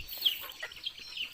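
Chickens cluck quietly in a poultry coop: a few soft, brief clucks and calls, somewhat distant, against a faint, quiet background.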